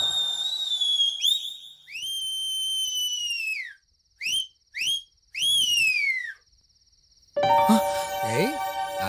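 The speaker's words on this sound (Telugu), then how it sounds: "ఏయ్ ఆపేసావే? ఎయ్యరా విజిల్." A man whistles in a courtroom comedy scene, giving several long, bright notes that slide downward, then short bursts and another falling note, close and loud, before other noise takes over at the end.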